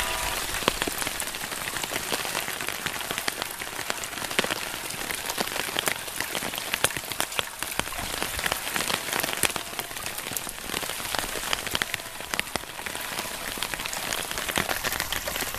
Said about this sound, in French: cette fois on a une pluie qui est quand même nettement plus forte